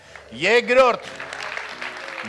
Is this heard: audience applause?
yes